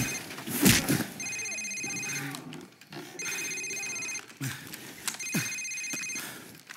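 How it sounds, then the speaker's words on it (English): A cell phone rings in Call of Duty 4: Modern Warfare, three repeated electronic ring bursts with brief gaps, loud and close amid room noise and occasional movement sounds. "Sir, it's his cell phone."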